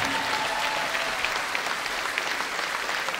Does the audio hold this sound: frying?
no